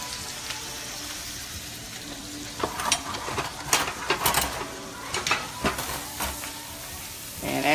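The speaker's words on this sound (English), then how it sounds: "So it's time to flip my steak." T-bone steak sizzles in a hot pan right after being flipped, a steady frying hiss broken by sharper crackles and spatters that come in bursts through the middle and end.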